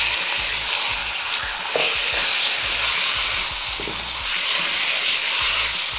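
Soy sauce and oyster sauce hit a hot wok with pak choi, giving a loud, continuous sizzle and steamy hiss with occasional stirring clatter.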